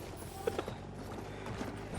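Cavalry horse hooves in the war game Battlefield 1, a few quick clip-clop hits near the start, then soft trotting under a low ambient rumble of battle, fairly quiet, with no voices.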